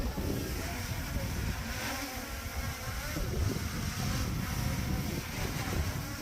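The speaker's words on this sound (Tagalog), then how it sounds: "Ganyan yung kalakas yung hangin" Strong mountain wind gusting across Mount Olis in Atok, Benguet, a steady loud roar like crashing sea waves that fills the whole clip without letup.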